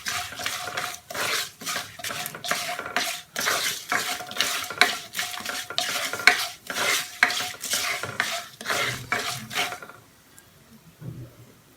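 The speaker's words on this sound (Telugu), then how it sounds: "అలానే షాజీరా, ఇవి కొంచెం ఫ్రై అవ్వనివ్వాలి." Shahjeera spices fry in a kadai for tomato pulao, with repeated rhythmic stirring scrapes and clinks of a utensil against the pot over a soft sizzle, ending in a near-silent pause.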